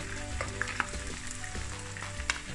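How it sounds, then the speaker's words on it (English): River shrimp frying in a pan on a stove, a steady close crackling sizzle with scattered sharp pops and spits throughout, no voices. "So I'm just turning up my shrimp. Let them fry a little bit more."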